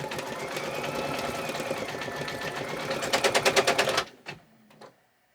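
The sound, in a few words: embroidery machine running and making an abnormal noise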